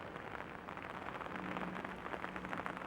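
Steady rain falls outdoors at a winter day-ticket carp fishing lake, a continuous close patter on surfaces with no talk.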